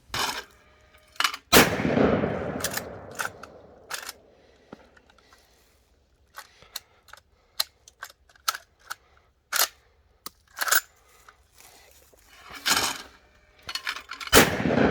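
PW87, a Chinese-made copy of the 1887 lever-action shotgun, fired at a range: several sharp, loud blasts spaced seconds apart, with metallic clicks and clacks of the lever cycling between shots.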